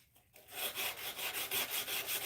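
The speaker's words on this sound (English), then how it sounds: "it's when hand sanding like this" Hand sanding a knife blade by rubbing abrasive across the steel in a quick, regular back-and-forth rhythm, close and fairly quiet, starting after a brief pause, with no talking.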